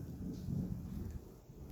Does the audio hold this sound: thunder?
yes